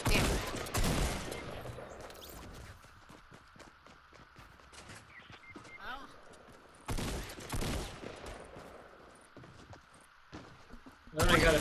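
Pistol fire in a Fortnite match: a few loud, sharp shot bursts at the start and again later, separated by quieter in-game ambience.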